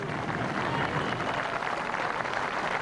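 A golf gallery applauds Ernie Els during a 1996 World Match Play finish, a steady, distant wash of clapping from a large crowd that carries on evenly throughout.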